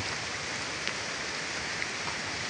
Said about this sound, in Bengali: শুধু বৃষ্টি আর বৃষ্টি চারিপাশে।